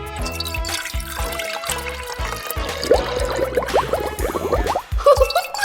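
Water pours in a cartoon science experiment, added after oil, with a bubbly, trickling fill that grows clearer over a couple of seconds over a bed of background music.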